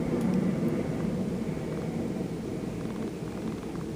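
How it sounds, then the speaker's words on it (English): A plane flies over a Las Vegas resort, heard as a steady, broad low rumble of engine noise that holds evenly throughout with no voices. "Did you hear the plane?"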